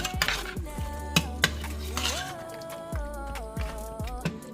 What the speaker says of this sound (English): We're gonna mix this in.